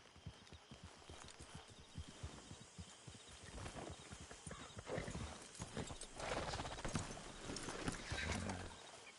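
Steady clip-clop of horse hooves on hard ground in a video game, a quick even rhythm that grows louder toward the end, with a brief whinny in the mix.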